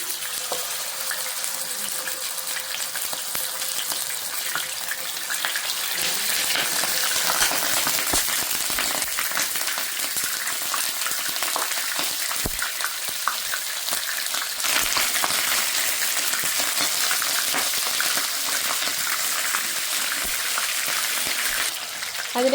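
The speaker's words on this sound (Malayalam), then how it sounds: "നമുക്ക് അതിലേക്ക് ചിക്കൻ ഇട്ട് കൊടുക്കാം." Chicken pieces fry in hot oil in a pan with a steady, bright hiss and sizzle that runs continuously for over twenty seconds, with occasional small pops and crackles and no voices.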